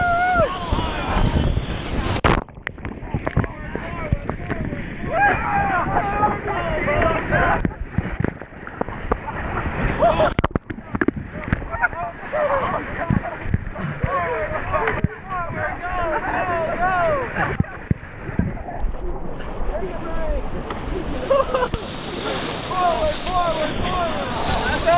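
A raft paddled hard through rushing water on the Menominee River, with wind buffeting the microphone and splashing throughout as people shout and talk over it.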